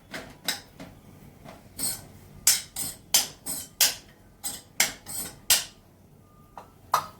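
A spoon stirs laddoo mixture in a pan over a low flame, producing close, bright metallic clinks and scrapes in a steady rhythm of quick strokes, each one sharp against a quiet background.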